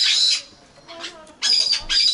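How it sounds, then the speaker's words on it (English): A cockatoo at a bird park in Hesse, Germany, gives loud, harsh squawks in two bursts separated by a quieter stretch, close by, with brief talk around it. "Oh, look at this beautiful cockatoo."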